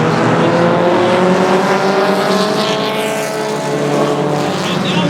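Race cars roaring around the oval at Sauble Speedway during a Dash for Cash event for combined 4-cylinder cars, a loud continuous engine drone from several cars close by, pitch wavering as they accelerate, with no talking.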